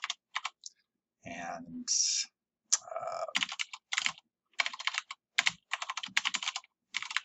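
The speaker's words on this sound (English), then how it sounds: "type in a name, hit save" Bursts of quick key clicks on a computer keyboard as a name is typed, in short uneven runs with pauses, close and clear, and a voice speaks briefly between them.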